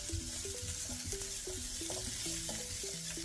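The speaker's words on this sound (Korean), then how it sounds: "소세지가 노릇노릇해질 때까지 볶아줍니다" Sausages and garlic fry in a pan over medium-low heat, a close, constant sizzle and crackle with intermittent stirring scrapes and pops, no talking.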